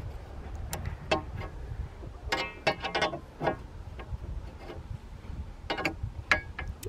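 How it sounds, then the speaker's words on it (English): A 3/8 inch wrench works loose the factory antenna on a Jeep JL, producing scattered metallic clicks and ratcheting ticks at close range with quiet pauses between bursts. "first you're gonna need a 3/8 inch wrench, and you're just going to loosen it up"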